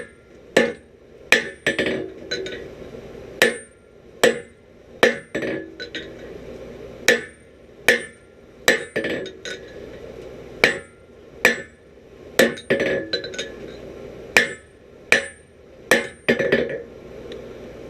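A hammer strikes hot steel on an anvil, forging down the edge of a hot chisel. The blows are loud, sharp and ringing, landing one after another in a steady rhythm with no talking.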